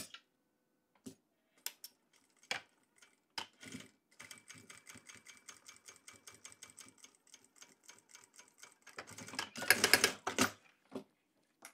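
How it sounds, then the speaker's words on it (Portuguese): Short bursts of sewing machine stitching on a transparent waterproof travel organizer pouch, quick ticking runs separated by pauses, ending in a louder busy stretch near the end. "E agora eu vou costurar no meu risco"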